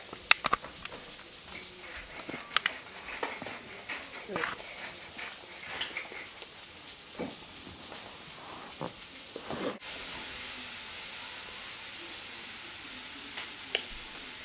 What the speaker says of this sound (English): Just finishing off the bacon and the onion